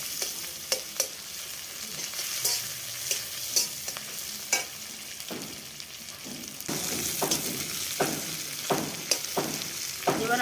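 Onions fry in a pan with a steady sizzle, broken by repeated spatula scrapes and stirs that come in an uneven rhythm, close and fairly loud, with no talking.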